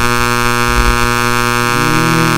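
A loud, steady electronic fire alarm in a university building drones continuously, its harmonic-rich buzzing tone shifting pitch slightly partway through.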